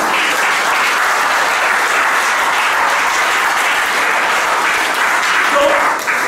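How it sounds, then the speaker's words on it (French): A church congregation claps and cheers for Jesus during a sermon, a loud, dense, steady wash of applause that runs unbroken from start to finish. "Acclame Jésus ce soir."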